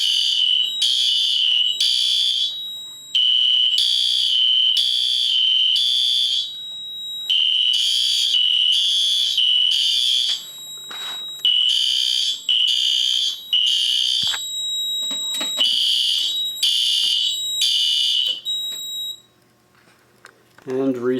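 A fire alarm panel sounds for a zone 2 alarm during a system test, giving loud, repeated pulsed electronic tones in regular bursts that stop near the end.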